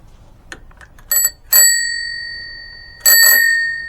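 A handlebar bell mounted on a motorcycle rings out in three bright strikes, the last two sustained and slowly decaying, close and clear with no talk.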